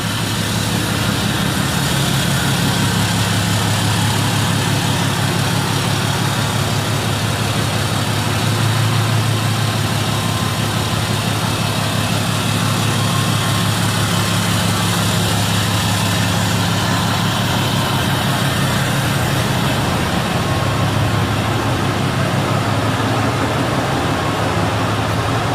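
Deleted 2019 Cummins diesel truck engine idling steadily, a loud, close, deep rumbling drone that holds unchanged for the whole stretch with no talking.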